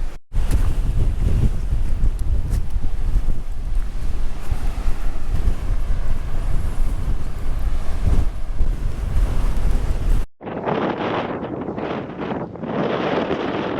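Strong, steady wind roars across the microphone on the exposed coast at Portland Bill for about ten seconds, then drops away to leave the hiss and wash of the sea nearby.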